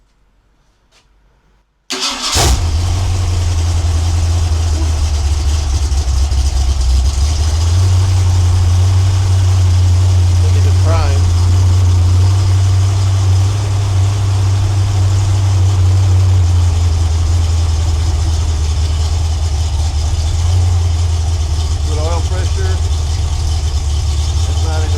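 A freshly rebuilt 302 V8 engine cranks briefly and fires up on its first break-in run, then settles into a loud, steady rumbling idle with slight rev changes, close by.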